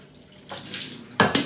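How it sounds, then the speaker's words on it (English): Tap water rushing briefly into a coffee pot during a rinse, a soft running stream that ends in two sharper splashy gushes, close by. "I'd rinse my pot out."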